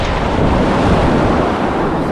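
Sea waves washing in steadily, a broad continuous rush that stays loud for the whole stretch, with wind buffeting the microphone outdoors near the water.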